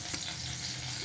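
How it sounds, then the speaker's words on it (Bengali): Dried chilies fry in a wok with a faint, steady sizzle and a light crackle, brief and quiet, with no talking. "ভেজে লঙ্কাটা তুলে ফেলতে হবে।"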